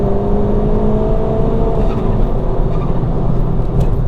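A 330bhp Revo-tuned Ford Fiesta ST, a high-powered front-wheel-drive hatchback, accelerates hard with a loud, steady engine drone that builds continuously, heard from inside the car.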